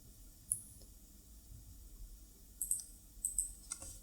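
Several light computer mouse clicks sound close and faint, one early and a short cluster near the end, over a quiet room hum with no talking.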